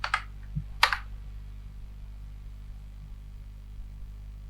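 A couple of sharp keyboard key clicks near the start while working in SketchUp, then only a low steady hum from the computer for the rest.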